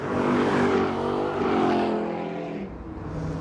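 The engine of the Savage Rivale Roadyacht GTR hums with a smooth, steady drone that rises slightly in pitch as it revs, then eases off and fades a little toward the end, with no voices.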